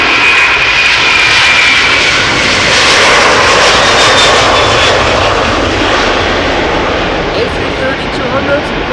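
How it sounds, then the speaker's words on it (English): A KLM Airbus A330-200 airliner on a flight to Houston roars loudly overhead at Amsterdam Schiphol Airport, a broad, close jet-engine rumble that stays strong throughout. "A330-200, that's a loud mother."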